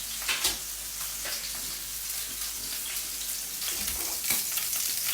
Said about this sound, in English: that's just going to help start frying the rosemary, frying the lamb